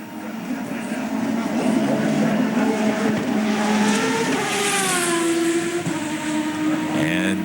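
Champ Car race cars scream past at the 2004 Grand Prix of Monterey, their engines a loud, continuous high-pitched whine that rises and falls with gear changes, while a commentator talks over the top.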